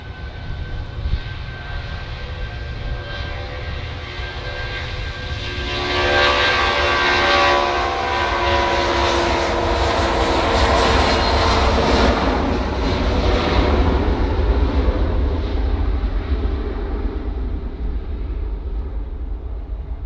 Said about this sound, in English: Yet another 757 going to Kos.